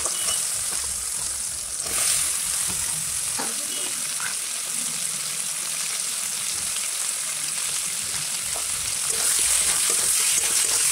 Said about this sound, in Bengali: তো এবার ফুলকপিটা ভেজে নেব